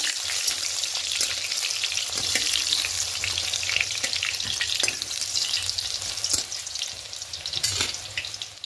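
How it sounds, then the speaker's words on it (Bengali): Eggplant fries in hot oil for a fish shukto, giving a constant, dense sizzle and crackle with scattered sharp pops and occasional faint stirring, close and steady throughout. "এবার এই তেলের মধ্যে বেগুনটা দিয়ে দেব"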